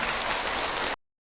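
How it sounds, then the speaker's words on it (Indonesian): Audience applause in a Ramadan religious talk hall, a dense burst of clapping from many hands that cuts off abruptly after about a second. "lagi tepuk tangan buat Abi"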